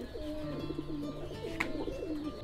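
Fighter pigeons coo in soft repeated rolling phrases, close by, with several birds overlapping against a steady background hum and no talk.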